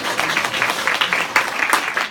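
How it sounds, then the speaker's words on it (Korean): A lecture audience at a Google education day claps for the host, a moderate burst of many hands with distinct sharp claps rising out of the dense patter. "박수 부탁드려요."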